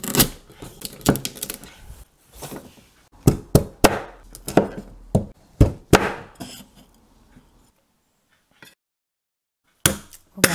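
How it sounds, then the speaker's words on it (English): Knife cutting galangal on a cutting board in a home kitchen, a series of sharp, irregular chops and taps, clustered for several seconds, then a pause and a few more strokes. "Now we're gonna cut up the galangal."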